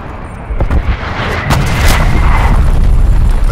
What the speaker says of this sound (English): Artillery targets.